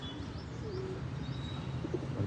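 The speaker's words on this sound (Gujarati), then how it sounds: "આજે સવારમાં બહુ શાનદાર કબૂતર ઉડ્યા છે." Domestic pigeons from an outdoor flying loft coo softly over a faint background hum, with brief chirpy calls. No clear wingbeats stand out in the short stretch.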